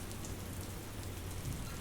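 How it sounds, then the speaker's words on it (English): Rain pouring onto the roof of an outdoor room, a steady, dense patter that stays even and close for the whole short stretch. "while you can hear the rain behind me"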